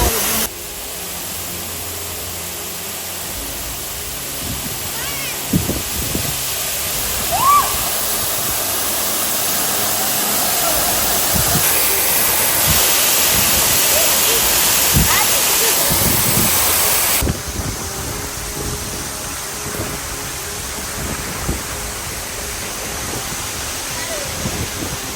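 Steady rushing roar of a waterfall, broad and continuous, with some handling bumps and faint background noises mixed in.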